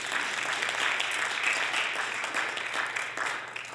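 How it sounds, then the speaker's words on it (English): An audience claps steadily for nearly four seconds at an event honoring Virgin Islands boat building heritage, a dense, even applause with no speech over it. "Give them a round of applause, please."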